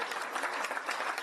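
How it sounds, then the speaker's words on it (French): Residents applaud warmly after a violin and piano performance in Monaco, a steady, dense patter of many hands clapping throughout, moderately close and without voices. "Les applaudissements ne se sont pas fait attendre"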